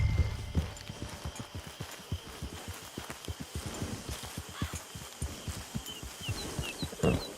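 Horse hooves clip-clop at a steady walking pace in the Red Dead Online video game, an even run of close, distinct hoofbeats across the whole stretch with faint ambient background.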